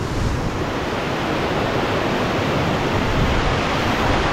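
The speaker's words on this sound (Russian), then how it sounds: "И вот он пляж, и вот тут вот водопад." Waterfall and surf at Sosnovka beach near Gelendzhik, a loud, dense, unbroken roar of falling and crashing water filling the whole stretch, with no voices.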